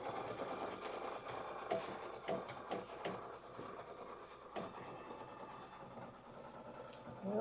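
Sewing machine quilting, stitching steadily to tack down the edges of a 60-degree fabric table runner, a continuous mid-level motor whir with slight variations in pace and no talking.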